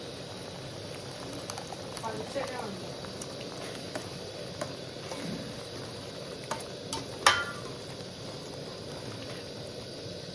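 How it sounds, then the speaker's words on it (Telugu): Tamarind juice being poured and stirred into a simmering tomato curry, soft bubbling and sizzling with a few clinks of a spoon against the pot, under talking. "ఇప్పుడు చింతపండు పులుసు వేస్తున్నాం."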